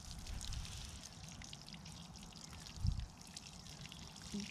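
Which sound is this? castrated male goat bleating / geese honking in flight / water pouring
water pouring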